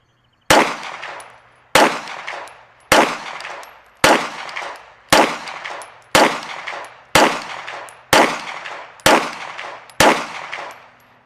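Pistol with a PDP Pro frame and PDP Pro magazine firing 10 rounds, sharp loud reports spaced about a second apart with ringing decay after each, no talking.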